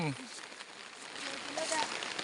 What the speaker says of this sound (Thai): ตอนนี้ฝนเริ่มตกหนักแล้วครับผู้ชม